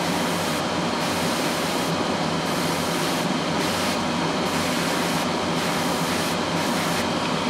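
Airbrush spraying Mr Hobby flat black paint: a steady, loud hiss of compressed air that runs continuously, with brief rhythmic dips in the highest part as the trigger eases.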